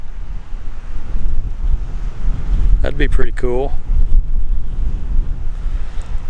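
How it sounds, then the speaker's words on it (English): Strong gusty wind buffets the microphone beside the Colorado River near Moab, Utah, a steady roaring rumble throughout, with someone speaking briefly in the middle. "it's so windy I can't even hold the camera steady"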